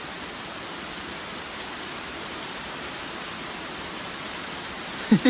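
Steady rain falls outdoors near a waterfall in a natural setting, a dense unbroken hiss holding at an even level throughout, with a couple of brief louder knocks right at the end.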